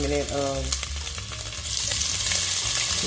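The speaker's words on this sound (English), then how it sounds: "let's go ahead and start putting the sausage in" Sausage dropped into an already hot pan while cooking a jambalaya-style sausage and rice dish, bursting into a loud steady sizzle that builds up close after a brief clatter, with no talking.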